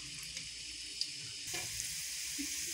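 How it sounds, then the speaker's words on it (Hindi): Potato chip slices are dropped one at a time into hot oil. A faint, steady frying hiss swells slightly partway through, with no talking. "ऑयल गर्म हो गया, मैं इसको हाथों की मदद से इसी तरह से 1 बाय 1 डाल रही हूँ"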